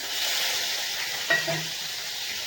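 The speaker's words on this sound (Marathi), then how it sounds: "तेल आपलं चांगलं गरम झालेलंच आहे तर आता आपण हे हे टाकून घेऊया पनीर टाकून घेऊ" Paneer sizzles and fries in hot oil, a steady close hiss with a brief clink of a stirring spoon partway through, no talk.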